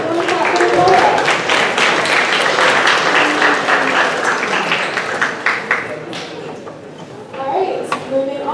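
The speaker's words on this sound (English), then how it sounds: "Awesome job, everyone clap for Renault." An audience applauds a spoken word performer at a high school competition, loud sustained clapping that thins out toward the end, with voices mixed in.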